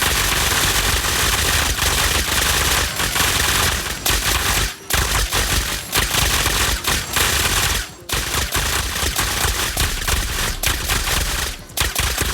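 A hundred nail gun auto-turrets in a video game unleash a dense, relentless barrage of rapid-fire shots against NPCs, a continuous loud clatter broken by a few brief gaps, with no talking.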